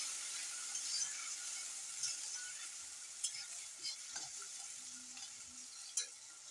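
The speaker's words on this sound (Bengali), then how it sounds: "এখন পেঁয়াজ রসুনটাকে আমি ভালো করে ভেজে নেব।" Onion and garlic frying in a pan beside a pot of boiling masoor dal, giving a steady close sizzle broken by a few light scrapes and taps of a stirring spoon.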